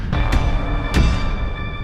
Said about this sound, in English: The entire cavern shakes with the sound of rockfall.